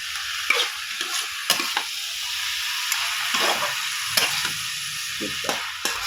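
Spices sizzle and fry in a pan for lau palam sagar churchuri, a steady close hiss broken by repeated sharp scrapes and clinks of stirring.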